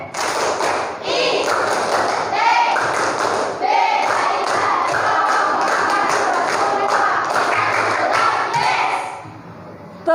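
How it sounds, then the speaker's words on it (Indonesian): A group chants and claps together in the rhythmic ITB cheer at a morning class session, loud, close and continuous, with layered voices and hand claps over most of the stretch before it tapers off at the end. "Tepuk ITB."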